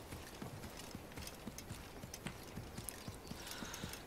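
In the Assassin's Creed video game, a horse's hooves clip-clop in a brisk, steady rhythm at moderate distance, each strike crisp over a faint ambient bed, with no voices.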